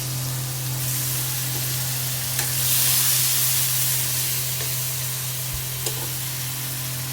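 Nigella seeds, chopped onion and garlic paste frying in hot oil for bhindi masala, a steady close sizzle with a louder hissing swell partway through and a low constant hum underneath.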